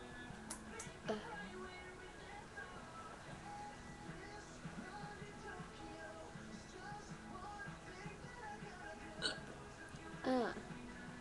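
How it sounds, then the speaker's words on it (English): Several sharp hiccups come from a person at close range and are spread unevenly through the clip, with the strongest near the end; soft breathing and murmured voice sounds fill the gaps. "I have hiccups right now"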